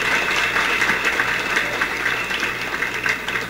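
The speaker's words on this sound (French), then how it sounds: "Applaudis-nous pour ça tout." Audience applause at a public gathering about school projects, a steady dense wash of clapping filling the whole span at moderate loudness, with faint voices underneath.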